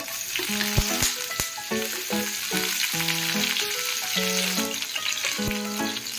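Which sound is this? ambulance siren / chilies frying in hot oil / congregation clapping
chilies frying in hot oil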